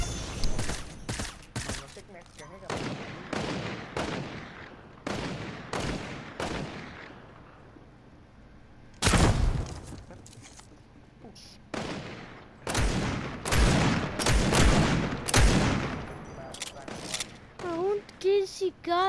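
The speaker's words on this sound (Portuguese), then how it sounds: "os caras atirando aqui" Video game gunfire, loud sharp shots in scattered bursts and single cracks throughout, some near and heavy, others quicker and lighter, with pauses between volleys.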